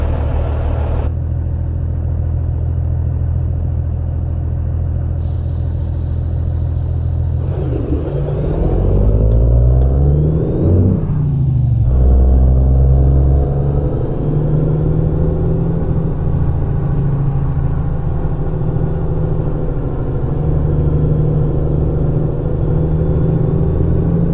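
A steady engine rumble of a Cummins-powered six-speed truck in American Truck Simulator runs throughout, briefly revving and shifting louder in the middle before settling back into a constant drone.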